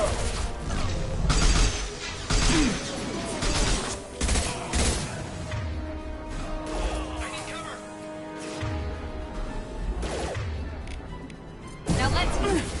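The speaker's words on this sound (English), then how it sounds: "Firing an impact shot!" Impact shot fired during a Mass Effect 2 firefight, with a thumping blast among repeated gunfire, crashes and mechanical clatter throughout, mixed with voices.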